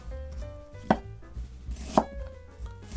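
A knife cuts food on a cutting board with two sharp, close thuds about a second apart over a low background hum, and no one speaks.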